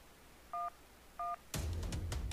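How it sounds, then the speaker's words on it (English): Two short phone keypad beeps sound a moment apart during a 911 operator call-center game, followed by a burst of crackly noise. "If you can't talk, please press any digit on your phone"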